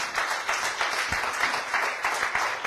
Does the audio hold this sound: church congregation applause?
yes